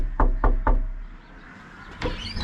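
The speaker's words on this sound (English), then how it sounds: "I'm gonna go beat on the door and see if she's ready for us." Three sharp knocks on a door in quick, even succession, then a pause and a fainter thump or rattle near the end.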